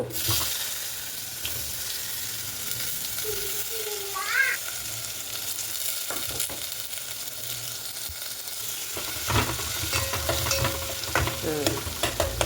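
Mustard seeds, cumin, a pinch of asafoetida, onion and curry leaves sizzle in two to three spoons of hot oil for a tempering, a steady broadband crackle with stirring clinks and scrapes throughout.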